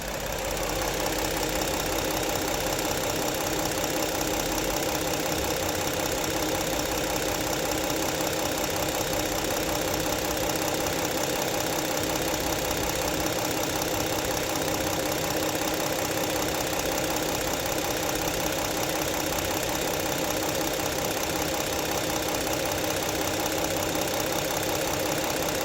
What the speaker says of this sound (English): I'm gonna be quiet now, let that you guys are able to hear the actual engine at idle